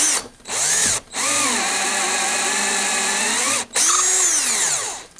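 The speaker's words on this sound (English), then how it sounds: "I inserted this bit to the chuck exactly the depth I needed, so I've got this thing drilled out now" Power drill boring into a crankbait lure body, a loud steady whine that winds up and down, broken by two short pauses where the trigger is released, no talk.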